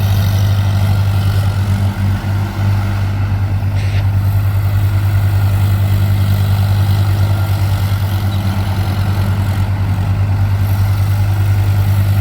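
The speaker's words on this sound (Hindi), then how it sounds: "PP46i ट्रैक्टर ये लेज़र लेवलर के ऊपर चल रहा है।" An Escorts Kubota PP46i tractor engine runs steadily while pulling a laser leveler across a farm field, giving a loud, constant low diesel drone with no pauses.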